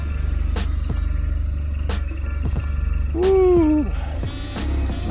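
A motorcycle rides off through the desert with a steady, loud engine drone close by, its pitch rising briefly as it revs, and a single shout from the rider partway through.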